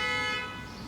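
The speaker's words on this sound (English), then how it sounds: "Confirmation honk." A car horn gives a single sustained honk, loud and close, lasting about a second and tapering slightly at the end, with no voices over it.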